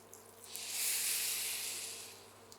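Warmed water pours into a pan of prawn curry (chingri macher muriGhonto) and sets off a soft sizzling hiss that swells for about a second and a half, then fades, with no talk.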